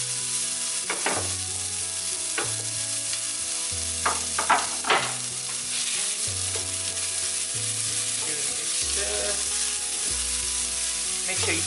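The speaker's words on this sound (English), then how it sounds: "we're going to throw in our onions into it" Chopped onions frying in about a tablespoon of hot oil for a Goan prawn curry, a steady close sizzle with occasional scraping stirs throughout.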